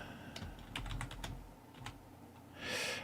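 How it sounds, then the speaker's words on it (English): Touch typing on a computer keyboard, with bursts of quick, close key clicks followed by a pause and then a few more taps, quiet against a faint background hiss. "My touch typing is not working out."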